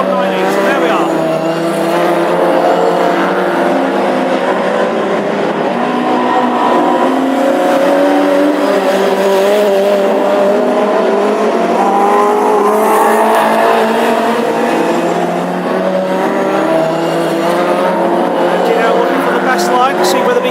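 Classic hot rod race cars howl around the circuit at Birmingham, with loud, continuous engine roar rising and falling as several cars race close together, while a commentator talks over the racing.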